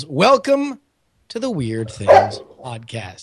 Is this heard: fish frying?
no